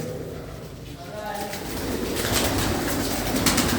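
Pigeons coo softly in the background while people talk over them at close range.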